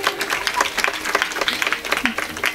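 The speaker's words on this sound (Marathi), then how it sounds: "टाळ्या वाजवा बरं एकदा" An audience at a Marathi kirtan claps together, a lively burst of many hands with uneven, slightly pulsing rhythm, close and fairly loud with no voices on top.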